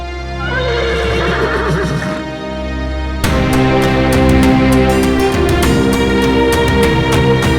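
Horses grazing on a hillside neigh loudly, a long whinny followed by a second, stronger bout of repeated neighing with faint hoof clip-clops, close and dominant without speech.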